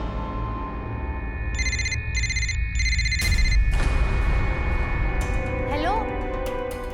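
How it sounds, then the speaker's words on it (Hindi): A mobile phone ringtone plays three short repeated melodic bursts over steady background noise, followed by a sweeping tone, with no speech heard. "मुंजा का फोन आया था, निकलते हैं।"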